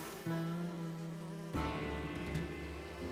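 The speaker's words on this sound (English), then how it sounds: "They're like weird types of bees." Flash bees from a My Little Pony cartoon give off a steady, close insect buzz that swells noticeably partway through and keeps droning, with no talking over it.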